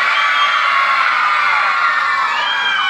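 A crowd of children at a party shout and cheer together in a loud, sustained, enthusiastic roar of high voices that lasts the whole moment.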